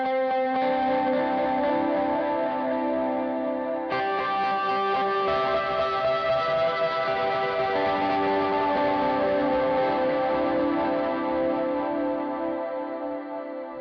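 A custom Ambient Drone preset on a guitar effects pedal produces a sustained, layered drone of held chords with heavy reverb, chorus and echo, one continuous swell with a shift near four seconds, loud and alone without talk.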